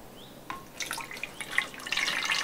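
Water trickles and drips into a container as a liquid plant-spray mix for tomatoes is topped up to one litre, a faint pour building into a steadier splashy fill.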